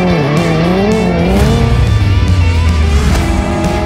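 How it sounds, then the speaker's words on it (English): A Hyundai N car engine roars loudly while tires squeal in long, wavering screeches as it slides through a drift. "the new N Drift Optimizer makes drifting easier"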